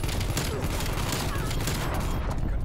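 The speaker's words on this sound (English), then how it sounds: "Targeting active. Artillery inbound." An artillery strike lands in Call of Duty Black Ops Cold War multiplayer as a dense, continuous barrage of loud blasts and crackling gunfire filling the whole stretch, with a voice faintly mixed into the din.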